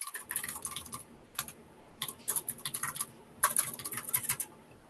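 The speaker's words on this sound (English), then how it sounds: "Who has this keyboard?" Computer keyboard typing comes through in irregular bursts of quick clicks separated by short pauses, close and fairly faint, during an online networking meeting, with no voices.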